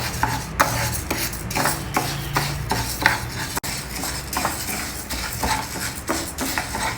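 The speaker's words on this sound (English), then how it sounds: "with constant stirring and over low heat, you just continue dry roasting it like this" A spoon stirs dal as it dry roasts in a pan over low heat, giving continuous scraping and clinking with a faint sizzle, steady and close throughout with no talking.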